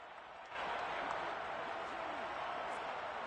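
Crowd applause in an American football video game swells abruptly after half a second into a dense, steady roar that holds to the end.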